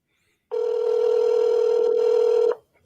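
A single telephone ringback tone sounds during a phone call, one steady two-second ring heard clearly with no talking over it.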